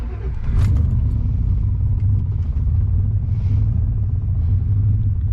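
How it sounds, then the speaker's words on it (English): Car engine with a new fuel system and bigger injectors, starting up and settling into a loud, steady, deep idle rumble with a brief higher catch at the start, close by. "Car starts up pretty nice overall."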